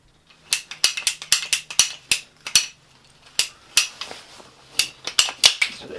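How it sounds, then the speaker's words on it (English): A ratcheting PVC cutter chews through plastic electrical conduit with a quick series of sharp, loud clicks and snaps, about twenty in six seconds, close up with no talking. "And in order to cut it, we can use a saw or whatever, but we got a PVC cutter."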